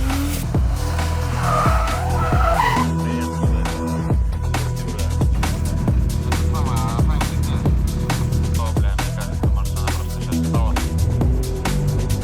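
A BMW drift car at a drift competition skids with long, loud tire squeal over a roaring, revving engine, sustained throughout and close by.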